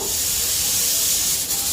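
A pressure cooker vents steam on a kitchen stove, a steady loud hiss running unbroken through the whole moment with no talking over it.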